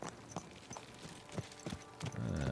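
Horse hooves clip-clop in irregular steps on a hard surface in Kingdom Come Deliverance 2, a handful of close, fairly loud hoofbeats over a steady background rumble, with no talk.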